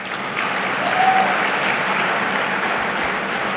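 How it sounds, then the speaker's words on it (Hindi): Steady applause from an audience at a motivational speech, a continuous wash of clapping at moderate loudness lasting throughout with no voices over it. "अब तक के भाषण की सबसे कम तालियां बजी हैं।"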